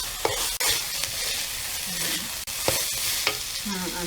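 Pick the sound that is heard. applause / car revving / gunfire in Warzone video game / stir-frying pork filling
stir-frying pork filling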